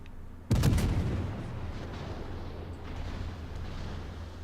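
Naval gunfire striking a ship in World of Warships: one sudden heavy boom, loud and close, rolling into a long rumbling decay, with a faint second thud later and no talk.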